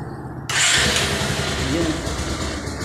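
A Kawasaki Rouser 180 motorcycle engine is cranked and catches, settling into a steady close idle with a buzzy, rough rumble, and a voice is heard briefly.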